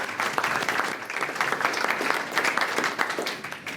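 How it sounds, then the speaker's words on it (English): Steady, moderately distant applause from a room of CEOs and guests honouring the organizers, dense clapping sustained throughout without talk. "I think we need to give them a round of applause just for doing such a great job of getting here"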